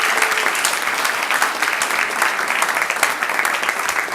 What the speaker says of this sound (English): Give another big round of applause to the second.